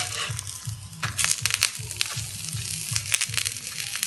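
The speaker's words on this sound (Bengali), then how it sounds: "এক একটি পাতুরি ভাজা হতে মোট টাইম লাগবে 15 থেকে 20 মিনিট" Silver carp paturi frying in a pan on low heat, a continuous sizzle broken by bursts of spattering crackle and a rhythmic low scraping, close and fairly loud with no voices.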